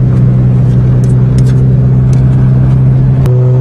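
A Toyota GTS engine drones steadily and loudly from close by while gears are tried, holding a constant hum with a small shift in pitch near the end and faint clicks over it.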